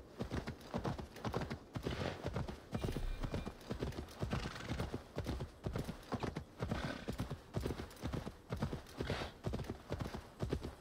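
A horse gallops in Assassin's Creed Valhalla with a steady, rhythmic clatter of hooves throughout, close and even, with faint game ambience underneath.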